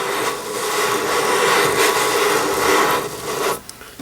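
Steady abrasive rasping as rifle scope rings are lapped for mounting an Arken scope on a Christensen Arms Ridgeline in 6.5 PRC, close and loud for about three and a half seconds before stopping abruptly.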